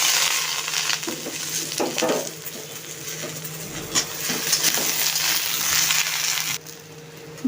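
Potato, papaya, carrot and other vegetables frying together in a pan for shukto, a steady broadband sizzle with scraping stirs and clatter throughout, easing slightly near the end.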